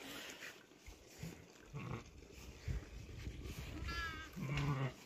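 Sheep bleat in short harmonic calls near the end, with a rustling outdoor background before them, heard along a mountain trail in Kalikot district, Nepal.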